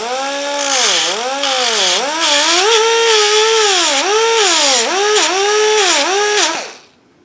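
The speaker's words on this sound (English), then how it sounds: "I got a little sharp point I got to take off right there. And let me deburr this a little bit." A handheld power tool takes a sharp point off a metal part on a Mustang rebuild, whining loud and close with a wavering pitch as the load shifts, then spinning down at the end.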